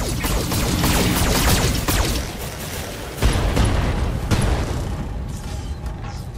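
BattleMech weapons fire in a Battletech Flashpoint battle: dense, loud, overlapping booms and bursts roll on continuously, with sharper blasts standing out near the middle, and no talking.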